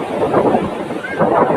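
Wind buffets the microphone at a cold rocky seashore while waves wash in steadily, a loud continuous roar with faint speech mixed in.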